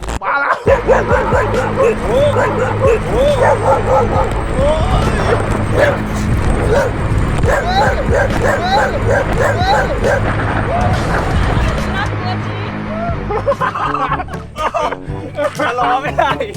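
Several dogs bark and yip excitedly at a rider on an electric scooter or electric unicycle, with loud, repeated, overlapping barks close by and people talking and chuckling throughout.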